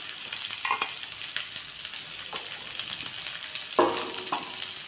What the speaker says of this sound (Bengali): এবারে আমি পেঁয়াজগুলোকে দিয়ে দিচ্ছি এর উপরে।